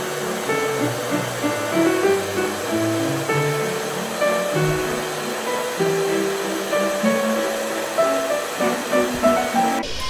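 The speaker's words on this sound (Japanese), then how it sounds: "ホワイトノイズ、赤ちゃんが体内で聞く音を流す。" Steady, continuous white noise, loud and unbroken, like rushing air, filling the whole span without pauses.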